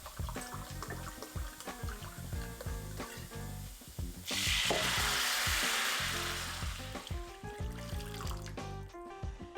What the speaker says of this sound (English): Now it's time to move on to the next step, the Madeira wine. 1 cup, 250 milliliters, pour it on in.